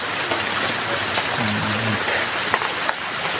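Rain falling outdoors as a steady, dense hiss with scattered drops hitting a surface, continuous throughout with no speech.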